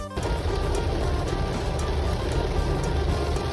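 Heavy rain pours steadily at an outdoor market in Thung Fon, Thailand, a dense, loud, unbroken wash of noise across the whole stretch with no voices.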